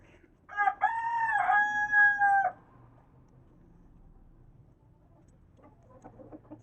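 A rooster crows once, loud and nearby, a drawn-out call over quiet background, followed by faint clucking later.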